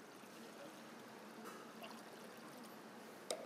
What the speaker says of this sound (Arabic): كب أول خطوة اللي هي المي.